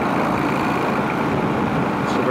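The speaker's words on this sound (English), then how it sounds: "That's a big old truck." A big truck passes on a country road, heard from a Honda Shadow motorcycle as a steady, loud low engine rumble and road roar that fills the whole stretch.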